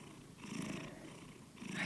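A sleeping cat purring steadily and softly up close, a continuous low rumbling hum with gentle swells and no voices.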